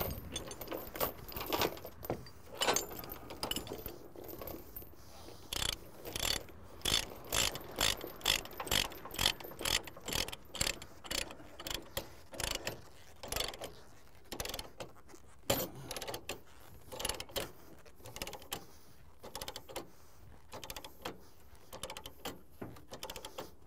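A chain being pulled tight and ratcheted down to secure a skid steer for hauling, with a long run of metallic clinks, rattles and ratchet clicks, close and fairly loud, and no talking.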